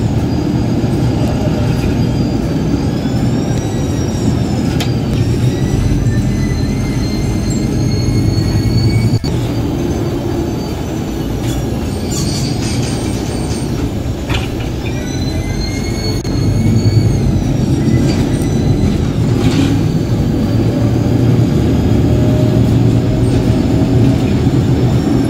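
Trains rumble through Jakarta Kota railway station (Beos) in a continuous loud rail and station din, with faint metallic squeals and tones drifting over the steady low roar.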